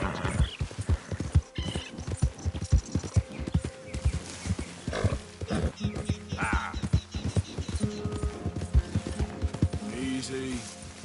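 Horse hooves pound in a steady galloping clip-clop in Red Dead Redemption 2, close and continuous, with a whinny and a rider's voice urging the horse on.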